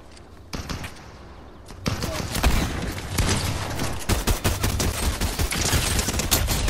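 Video game gunfire rattles in rapid bursts, starting sparse and quiet before a dense, loud stretch of overlapping shots and clattering mechanisms, with voices faintly underneath.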